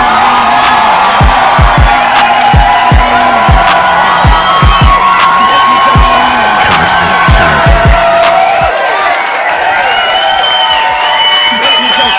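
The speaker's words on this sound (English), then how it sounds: "thank you for the round of applause" A loud crowd of podcast audience members cheering and whooping with clapping, a dense continuous roar with sharp shouts and some voices mixed in throughout.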